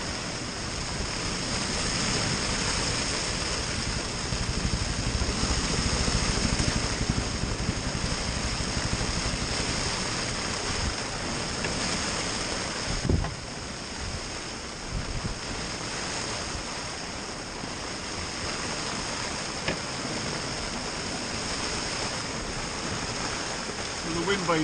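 Small sailboat at sea in bad weather: wind, sideways rain and waves roar continuously, a loud, dense wash of noise with occasional thumps, no speech.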